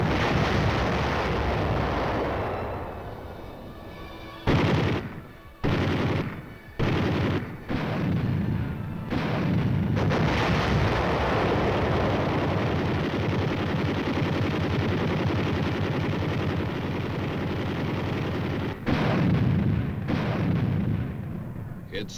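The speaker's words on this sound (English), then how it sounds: "It opened with the biggest barrage since the start of the war." Massive artillery barrage in the Korean War preceding an infantry river crossing of the Han, a continuous loud roar of heavy guns broken by brief gaps and fresh bursts, sustained and dense throughout.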